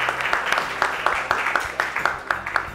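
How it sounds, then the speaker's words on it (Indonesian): An audience in a parliament class session at the Indonesian House of Representatives applauds, with steady, fairly close hand claps in a quick, even rhythm throughout. "Boleh ya tepuk tangan buat kalian semua dan Pak Aziz."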